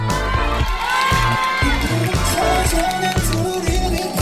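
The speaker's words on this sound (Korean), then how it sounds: "박수!" Middle school students in a classroom game session cheer and shout as a crowd, loud and continuous, with a rhythmic beat playing underneath.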